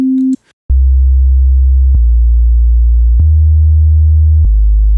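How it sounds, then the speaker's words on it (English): A brief higher beep, then FL Studio's 3xOSC synth playing low bass notes, four deep sustained tones that shift slightly in pitch, each starting with a soft click, loud and clean with no talk. "For this I will use the holy 3 OSC. Remove the other waveforms."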